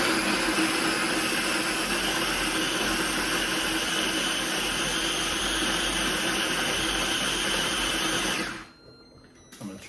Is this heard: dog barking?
no